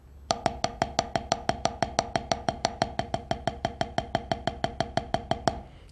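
Fast, even single strokes on a drum practice pad, a long run of crisp, sharp taps alternating hands at a steady sixteenth-note pulse, close and dry, ending after about five and a half seconds.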